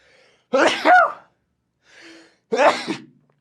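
Two loud, close sneezes with a short, quiet breath between them.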